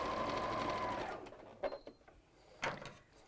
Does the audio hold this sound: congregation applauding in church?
no